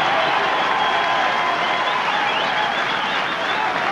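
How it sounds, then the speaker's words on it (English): Steady, dense rugby crowd applause at The Gnoll for the Ospreys captain during the Ospreys vs Scarlets Boxing Day 2004 match, at an even level, with a faint murmur of voices mixed into the clapping. "Deserves the applause."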